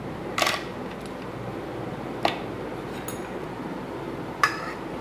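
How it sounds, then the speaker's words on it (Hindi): Ice is dropped into yogurt and milk for lassi, giving three sharp, separate clinks spaced about two seconds apart over a quiet kitchen background. "उसमें हम ये बर्फ़ डालेंगे,"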